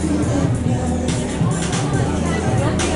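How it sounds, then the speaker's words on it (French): Dense crowd babble from shoppers packed into a Topshop store in London during the sales, a continuous loud wash of overlapping voices and bustle with no single speaker standing out. "Là, on est à Topshop, c'est la foule"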